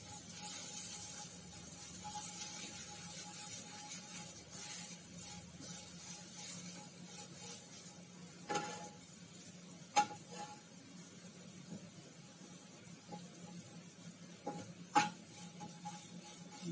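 Ginger fries in a pan with a soft, steady sizzle and occasional light clicks of stirring, fairly quiet, no speech.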